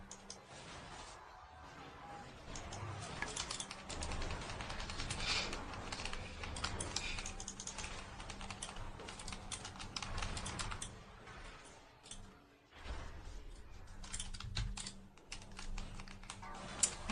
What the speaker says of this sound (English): Are you typing in English though?